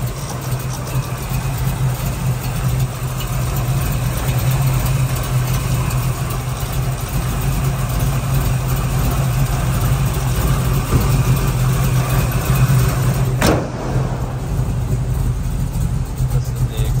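A 1968 Chevrolet Camaro RS with aluminum heads, ATI distributor and long tube headers idles steadily with a deep, even rumble, close and continuous, with one brief sharp knock or blip near the end.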